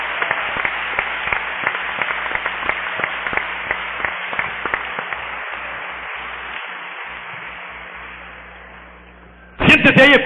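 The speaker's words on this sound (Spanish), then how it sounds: "Denle un aplauso al Señor." A church congregation applauds the Lord during a service in Veracruz, Mexico, with sustained crowd clapping that gradually fades and thins, followed by a short, loud burst of sound at the very end.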